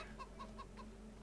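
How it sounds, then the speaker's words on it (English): Chickens in the Farming Simulator 25 video game cluck in a quick series of about four short, evenly spaced calls, over a steady low hum in the background. "I love it when the chickens run like that."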